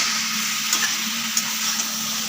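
Taro stolons cook in a pan with a soft, steady sizzle and a few light scrapes from stirring, close by and even throughout.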